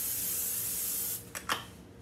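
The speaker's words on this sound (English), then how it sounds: "Let's spray this." Cooking spray aimed over chopped potatoes in a dish before baking, a steady close hiss lasting about a second, then two short final spritzes.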